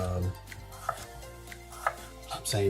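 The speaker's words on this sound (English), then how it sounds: "So what I like to do is really cut the potato the same size, so they cook the same" Knife chopping potatoes and onions for a breakfast potato hash, a few separate close cuts on a board spread across a short stretch, with no talking.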